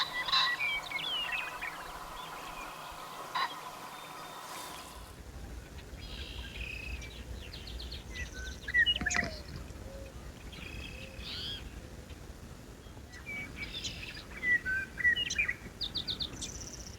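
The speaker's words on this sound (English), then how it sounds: "each grassy loop in the valley was occupied by a single, very noisy pheasant" A single pheasant calls in a grassy sandstone valley in the early morning, giving several short, harsh bursts spaced apart over a steady faint background of chirping birds and insects.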